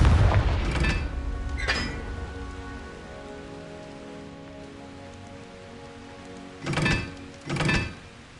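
A Confringo blast spell in Hogwarts Legacy: a low booming impact at the start fades into a rain-like crackle, followed by two later sharp blasts with bright bursts, heard alone without talk.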